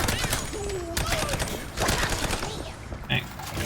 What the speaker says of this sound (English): Dang, I took a lot of bullets.